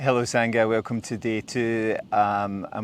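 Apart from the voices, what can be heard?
No distinct noise like a dog, phone or traffic.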